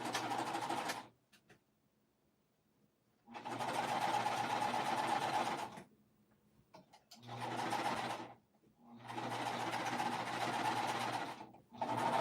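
A sewing machine stitches quilting pieces in several sustained runs of fast, even needle chatter, broken by short pauses between seams; the motor hum is close and steady with no talking.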